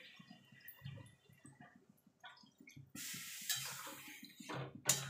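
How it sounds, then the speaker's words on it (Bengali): Water poured into a pan of simmering bean and potato curry, a brief splashing rush following quiet stirring and pan clinks, fairly faint and close. "এবার জল দিয়ে দেবো।"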